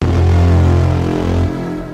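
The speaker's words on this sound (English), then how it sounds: "Take a few gritty FM sounds like this one," A gritty FM synthesizer tone holds a dense, buzzing low note for about a second and a half, loud and alone, then drops away into a fading tail.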